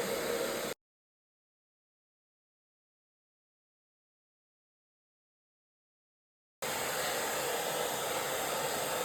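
A hair dryer fitted with a diffuser blows while drying curly hair, producing a steady broadband whoosh at the start that cuts out to silence and then resumes near the end.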